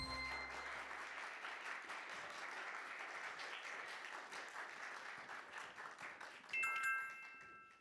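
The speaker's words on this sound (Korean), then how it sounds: "두 번째 발표팀 풍천중학교를 박수로 맞아주시기 바랍니다" An audience at a middle school trial-debate contest applauds steadily as the school team enters, a broad even clapping that carries on for several seconds before a short burst of bright tones near the end.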